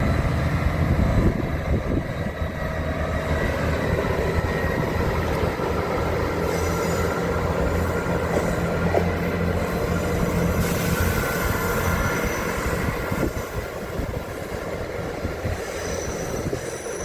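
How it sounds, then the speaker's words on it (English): An Ashington train pulls out of Manors station in Tyne and Wear, a steady rolling rumble with wheel squeal and rail noise, fairly close and continuous, gradually easing as it departs. "that's the Ashington train going out"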